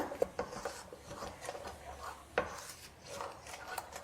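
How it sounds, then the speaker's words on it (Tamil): A spoon stirs chilli powder, garam masala and salt in a pan, giving irregular scraping and clinking knocks, fairly quiet with a few sharper taps. "இப்போ இதெல்லாம் சேர்த்து நல்லா கிளறி விடுங்கம்மா நல்லா மிக்ஸ் பண்ணி விடுங்க"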